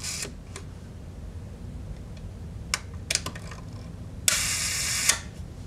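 A Mamiya C220 twin-lens camera with an 80mm f/2.8 lens firing its leaf shutter: several sharp, close mechanical clicks spaced irregularly, followed by a longer buzzing release lasting under a second, over a quiet room.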